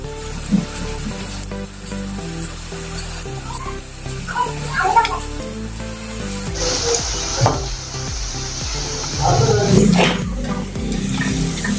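Murmura chivda ingredients sizzle steadily in hot oil, with occasional stirring scrapes and clinks of a pan, fairly close and continuous with no talking.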